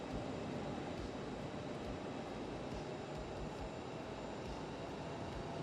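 An airliner's engines hum as a steady, faint whine and rumble while it taxis to the gate in a flight simulator game, with no other sound over it.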